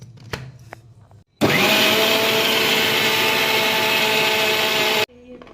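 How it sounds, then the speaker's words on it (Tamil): A kitchen mixer grinder grinds a jar of soaked hair pack ingredients, starting abruptly into a loud steady whirring roar that runs several seconds and then cuts off sharply, with faint sounds before and after. "அப்படியே மிக்ஸி ஜாரில் சேர்த்து 2 தடவை அரைச்சி எடுத்துப்போம்"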